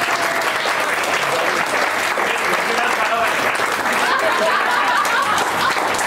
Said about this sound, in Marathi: जोरदार टाळ्या प्रकाश सरांसाठी